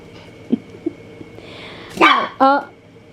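Pet dog at home letting out two loud, brassy close barks after a few soft short yips and whimpers, with a quiet household background.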